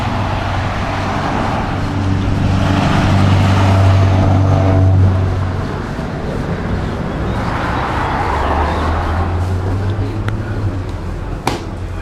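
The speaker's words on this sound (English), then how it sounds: "That's Mike's Turbo right there." A Porsche Cayman Turbo engine hums at a steady idle nearby, a low continuous drone that swells slightly for a few seconds and then settles, with faint background noise around it.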